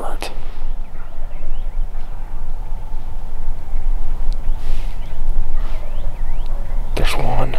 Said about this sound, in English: I get the feeling he's going to gobble a lot because he gobbled a lot last night